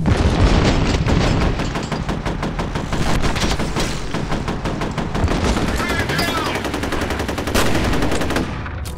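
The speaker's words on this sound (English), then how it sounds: "would you stop throwing nades at me?" Grenade blasts and rapid gunfire in the video game FEAR, loud and continuous, with dense bursts of automatic shots and heavy booms filling the whole stretch up close.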